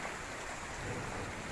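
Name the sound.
rain during Tropical Storm Zeta in Jamaica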